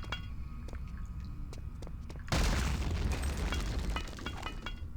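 Grenades go off in Return to Castle Wolfenstein: after a quiet stretch with faint game sounds and clicks, a sudden loud blast erupts and rumbles on for a couple of seconds before easing into lighter debris and clinks.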